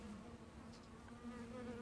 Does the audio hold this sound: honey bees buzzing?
yes